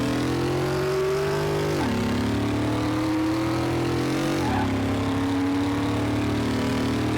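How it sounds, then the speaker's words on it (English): A high-horsepower race car roars in Car Mechanic Simulator 2018 at a speedway. The loud, steady engine drone climbs in pitch, drops sharply at two gear shifts and keeps revving up. "Start your engines"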